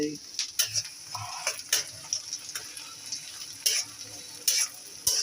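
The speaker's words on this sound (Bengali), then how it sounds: "এভাবে নাড়াচাড়া করে নেব" Onions fry in mustard oil while a spatula stirs them in a pan for chicken curry, bursts of scraping and sizzling at close range, moderately quiet, with a voice faintly in the background.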